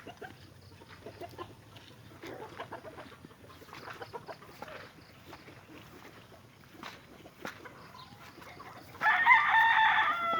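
Chickens on a small family farm, with a rooster crowing loudly near the end over faint, scattered clucks and background noise.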